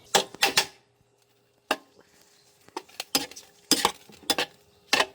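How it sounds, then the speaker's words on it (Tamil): A large pot of soya rice for 120 schoolchildren being stirred, with sharp scraping metal clatters in irregular bursts separated by quiet gaps, close and alone. "2 டபராக்கு இதே போல் கிண்டிக்க போகிறோம் மல்லித்தலை போட்டு போட்டு."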